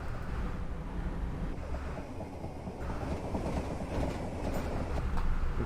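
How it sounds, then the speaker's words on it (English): A simulated train on the Midland Main Line out of London races at nearly 90 mph, with a steady loud rumble and rushing wind noise that swells slightly toward the end, no talking. "This little train is a speedy beast"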